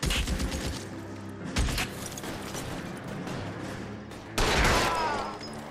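Two sharp gunshots crack out in an armed police standoff with LAPD officers, the first near the start and a louder second blast with echoing tail later on, over steady background rumble.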